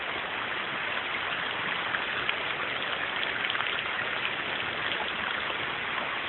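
Rain falls steadily over Lake Thomas, a dense, even hiss of drops on the water and surroundings, continuous and unbroken, with no voices.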